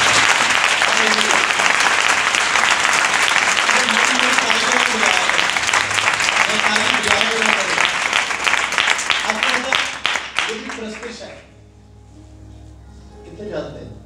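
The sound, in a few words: congregation applauding loudly for Jesus Christ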